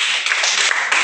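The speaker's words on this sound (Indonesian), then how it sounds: "Oke, kasih tepuk tangan untuk Ron." Students in a mathematics class clap for a classmate, a loud, dense burst of many hands clapping together close by that fills the whole short stretch without a break.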